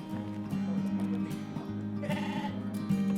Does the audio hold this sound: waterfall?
no